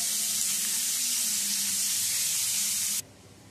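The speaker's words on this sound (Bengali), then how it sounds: "পেঁয়াজ কুচিটা দিয়ে ভেজে নেব।" Chopped onion sizzling in hot oil in a pan, a steady bright close frying hiss that cuts off abruptly near the end, leaving a quieter low background.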